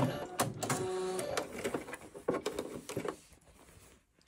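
Sewing machine stitching a seam on men's boxer shorts, a short burst of rapid mechanical whirring and tapping that slows and fades out after about three seconds.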